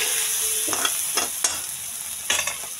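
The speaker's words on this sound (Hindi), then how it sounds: "इसे मैं एक दो मिनट के लिए और फ्राई करूँगी" Egg frying in a pan, a constant bright sizzle with a few scraping strokes of a spatula stirring through it, close and alone without any talking.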